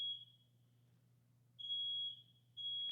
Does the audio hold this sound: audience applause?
no